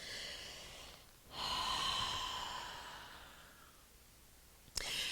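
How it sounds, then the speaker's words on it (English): A deep breath during a yoga flow, a long, close, breathy inhale that swells and slowly fades over a few seconds, followed by a short sharp sound at the end. "Big breath."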